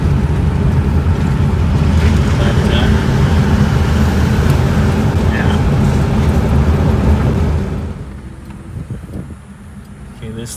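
A 1966 Rolls Royce Silver Cloud cruising through Palm Springs, its steady road and engine rumble loud and continuous before dropping off sharply as the car brakes and slows toward a stop, with some talking.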